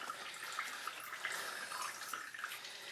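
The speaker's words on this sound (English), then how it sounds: "don't forget to adjust your oil pan to catch any extra drippy drips." Oil drains from a 1978 Triumph Spitfire into an oil pan as a thin, steady trickling pour with faint splashy flickers, quiet and continuous with no talking.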